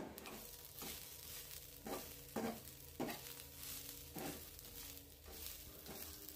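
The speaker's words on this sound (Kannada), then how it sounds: "ತೆಂಗಿನಕಾಯಿಯನ್ನು ಜಾಸ್ತಿ ಹುರಿಯೋದು ಬೇಡ ಸ್ವಲ್ಪ ಹೊತ್ತು ಹುರ್ಕೊಂಡ್ರೆ ಸಾಕು" Grated coconut and curry leaves roast in a pan for crab sukka, with a soft steady sizzle broken by regular scraping stirs of a spatula, close and fairly quiet.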